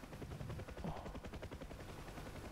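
Rapid bursts of gunfire rattle in the DCS UH-1 helicopter game during a rescue mission, repeated shots in quick succession over a constant rotor drone, fairly loud throughout.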